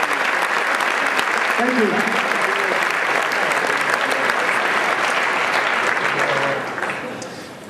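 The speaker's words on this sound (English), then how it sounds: "standing ovation." Sustained applause from a standing audience at a martial arts award ceremony honoring a lifetime achievement, steady and dense throughout, with a brief spoken thank-you over it before the clapping tapers off near the end.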